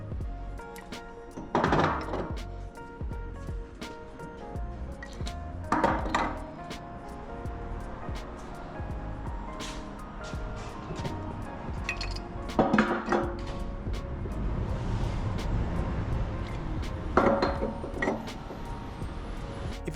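Steel semi-automatic twist locks are fitted onto container corners, giving four separate loud metallic clunks spaced several seconds apart, with faint clinks and handling noise between them.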